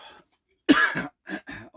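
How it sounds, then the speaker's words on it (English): A close coughing fit: a loud harsh cough followed by several rapid, raspy hacking coughs in quick succession. "just had a coughing fit."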